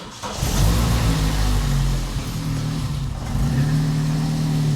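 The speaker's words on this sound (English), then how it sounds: "Let's start the car." A Vauxhall Corsa C track car engine cranks and fires, then settles into a loud, steady idle close by, with a brief dip and a slight rise in revs near the end.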